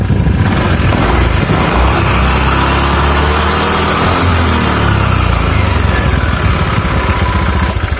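A motorcycle engine running loud and close, a steady rumbling idle that rises slightly in pitch mid-way, with no talking.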